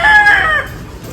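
A rooster crows once at a family home, a loud, close call that rises and then trails off within about a second.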